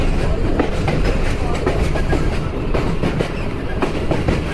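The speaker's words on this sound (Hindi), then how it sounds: "ट्रेन ऐसे जंप करती है और ऐसा ट्रैक साउंड" Clickety-clack of the 10 Down Allama Iqbal Express running on rails from Sialkot toward Lahore, a loud, steady rumble of wheels over track joints with rhythmic knocks and jolts, heard from inside an AC standard coach for the whole stretch.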